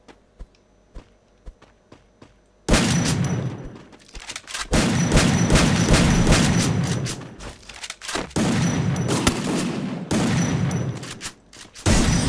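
A shooter video game fight with headshots: sparse quiet ticks first, then loud dense gunfire bursts erupt and rattle on in long stretches with short gaps between volleys.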